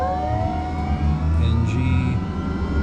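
A Kodiak 900 turboprop's starter engages and the engine spools up, a steady rising whine over a low rumbling drone heard from inside the cockpit, with a faint higher tone appearing midway.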